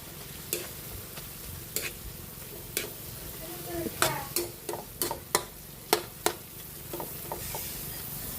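Ground meat picadillo with oyster sauce stirred in a pan, a soft sizzle under a run of sharp, irregular scrapes and clacks from a spoon against the pan, growing busier midway; close and clear, no talking.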